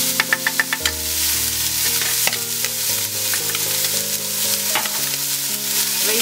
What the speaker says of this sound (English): So we heated our oil. We're gonna dump the onions.